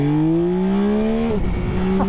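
Yamaha Tracer 9 GT+ motorcycle engine revving up as the rider pulls away, a steady rising drone that shifts pitch midway, close and loud throughout.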